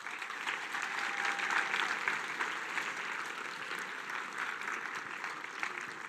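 An awards ceremony crowd at the F1 in Schools UK national finals applauds an award presenter, a sustained, fairly distant wash of clapping that stays even throughout.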